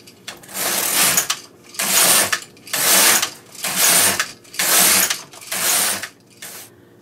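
A knitting machine working rows: the carriage sweeps back and forth about six times in a steady rhythm, each pass a loud mechanical whir and clatter separated by short quiet gaps.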